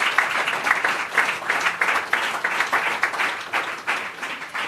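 Steady applause from an audience at a French-language religious gathering, dense and sustained with some rhythmic clapping running right through, fairly close and loud.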